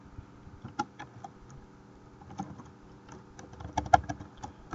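Someone types on a computer keyboard while working in a Linux terminal, with irregular light clicks and taps in short bursts, close and fairly quiet, with no voices.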